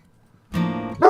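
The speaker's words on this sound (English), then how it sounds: "No barking." A dog lets out a short whining bark followed by a sharper yip, close and loud after a moment of near silence.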